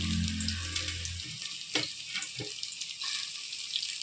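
Chopped onions and carrots tipped into a hot pan, bursting into a steady hiss of frying with a few clinks and scrapes of stirring, close and moderately loud.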